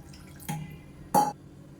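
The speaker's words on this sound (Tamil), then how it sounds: "இப்போ தேவையான அளவுக்கு தண்ணி சேர்த்துக்கலாம்" Water splashes into a pot of mango buttermilk curry made with a ground coconut and curd paste, two short bright pours about half a second apart, close and fairly loud over a quiet kitchen background.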